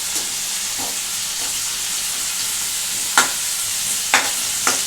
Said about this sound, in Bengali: পেঁয়াজটা কিন্তু ভালো করে ভাজতে হবে